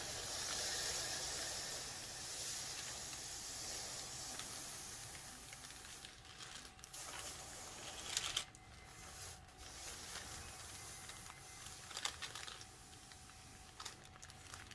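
A steam iron hisses steadily while fabric is pressed, a soft continuous spray of steam broken by faint clicks and the bump of the iron moving.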